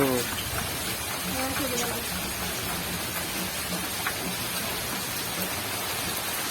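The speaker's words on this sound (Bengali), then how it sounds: "আরো জোরে বৃষ্টি আসছে।" Heavy rain pours down in a village, a dense, steady hiss of drops hitting surfaces that stays loud and unbroken throughout, with faint voices in the background.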